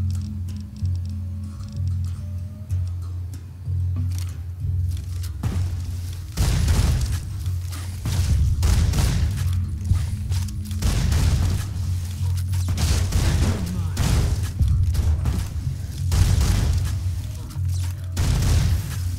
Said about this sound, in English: Let's use a shotgun.